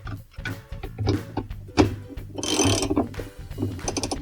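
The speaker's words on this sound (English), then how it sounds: "we'll need our 7/16 socket wrench with a long extension. We're going to remove the agitator bolt." Clicking and ratcheting of a 7/16 socket wrench on a long extension as it loosens the agitator bolt inside a washing machine tub, with irregular metallic clicks and a brief louder grinding burst midway.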